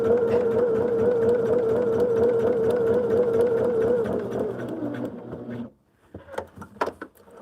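A sewing machine stitching a quilt block runs as a steady motor whine for about five seconds, then stops, followed by a few faint handling clicks.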